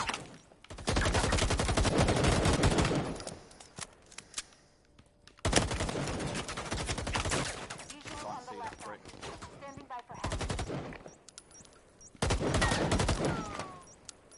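Sustained bursts of rapid automatic gunfire erupt in a video game shootout, three long loud volleys separated by brief pauses with scattered single shots between, close and dominant over faint background sounds.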